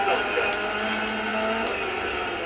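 A rally car's engine in the Dirt 4 video game accelerates hard in a steady, loud, buzzing drone, with a voice faintly talking underneath.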